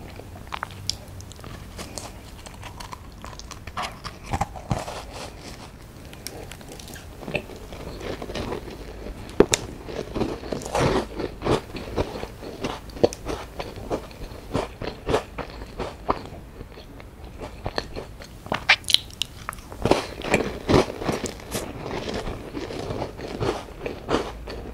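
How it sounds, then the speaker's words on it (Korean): Crunchy strawberry jam tart biscuit being bitten and chewed up close, a long run of sharp crisp crunches and crackles in irregular bursts with quiet pauses between. "타르트는 진짜 바삭하고 잼이 엄청 이에 달라붙어요."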